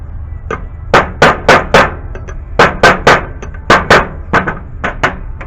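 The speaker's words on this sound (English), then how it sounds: "I was just kind of like hammering it in as I go, gently" A hammer taps a Chevy Silverado oil pump for a 4.8L, 5.3L, 6.0L or 6.2L engine gently into place, giving about fifteen sharp, close metallic knocks in quick groups of three to five with short pauses between.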